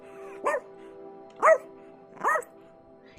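A dog in the video game Rainswept gives four short, evenly spaced barks at close range over a steady, low background tone.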